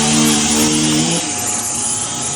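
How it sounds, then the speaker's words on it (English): A weed eater or chainsaw runs nearby during an outdoor air-conditioning service call. It gives a loud, steady, buzzing engine whine with a clear pitch, which drops a little partway through and keeps running. "we got a weed eater chainsaw going"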